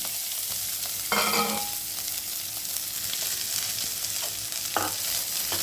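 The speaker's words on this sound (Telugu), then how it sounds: "పుదీనా, కొత్తిమీర ఇవి కూడా చక్కగా ఫ్రై చేసుకున్నాము" Coriander and mint leaves fry in oil, giving a steady close hiss with a couple of brief spoon scrapes and stirring clatters, and no voices.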